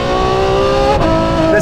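Novitec-tuned Ferrari F12 supercar engine revving hard, a loud, steady, near high-pitched howl with a brief dip as the pitch shifts, filling the whole moment.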